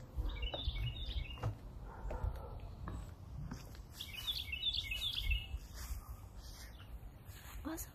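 Birds chirp and whistle in a backyard garden, two clear bursts of high, bright tweeting calls separated by a pause, heard over a low rumbling background with faint scuffing steps nearby.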